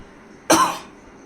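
A single sharp cough from someone with a cold, a brief harsh burst standing alone against a quiet background.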